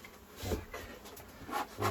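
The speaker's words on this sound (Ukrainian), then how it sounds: "Бджоли. Дуже багато бджоли." Honey bees swarm around an opened hive in a disturbed colony whose frames are packed full, a steady close buzzing with louder swells as insects pass near.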